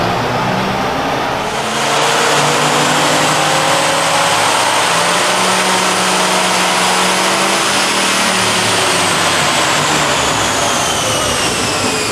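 A 1979 Fox Body Mustang Cobra V8 with a C4 three-speed automatic roars on a dyno in a long, loud, sustained wide-open pull, its pitch climbing steadily and then holding high for most of the run, with no talk over it.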